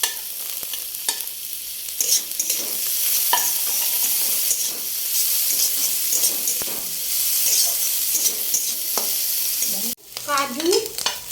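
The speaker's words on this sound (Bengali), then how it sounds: "তারপর দেবো গাজর কুচি, একটুখানি নাড়বো।" Chopped carrot and capsicum stirred in a hot frying pan, a continuous loud sizzle with repeated spatula scrapes and clatters, then a brief sharper scrape after a short break at the end.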